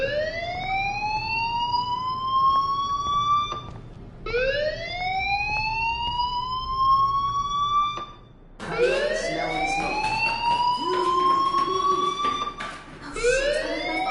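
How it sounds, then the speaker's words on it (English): A school fire alarm in the Life is Strange video game wails as a rising electronic siren, sweeping upward in repeated loud cycles with brief gaps between them, heard alone without talk. "Hey, do you hear that fire alarm?"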